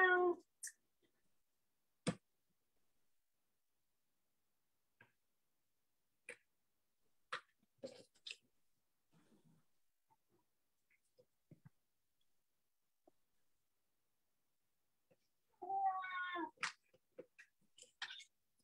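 Pet cat meowing indoors during a papercraft session, a few short faint calls scattered among quiet clicks and rustles, then a longer sequence of meows near the end, close but soft.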